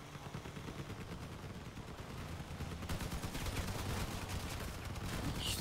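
Rapid gunfire from a vehicle firefight in the game Crossout, a dense crackling stream of shots that grows louder and busier partway through and continues without voices.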